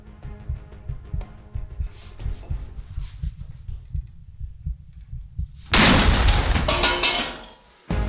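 A huge burst booms out as a giant welded popcorn bucket explodes, a loud broadband roar cutting in sharply after a stretch of low rhythmic thumping and rattling, then fading before a final jolt.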